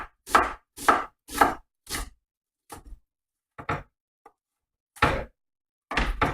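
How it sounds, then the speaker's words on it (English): A knife chopping an onion on a cutting board, a run of firm close thuds at an even pace, then a few slower, scattered cuts with brief pauses between them. "We're almost done with cutting the onion."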